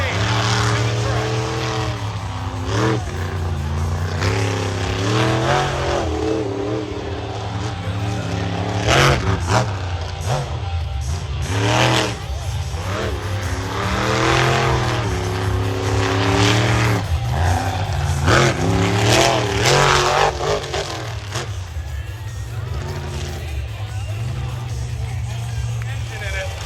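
A monster truck's roughly 3,000-horsepower engine roars and revs loudly for a long stretch as it drives to the track at a monster truck show, the pitch rising and falling, with an announcer talking over it.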